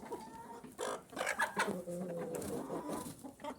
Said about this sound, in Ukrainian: Молодий півник б'ється з великим, щоб той не грав з курми.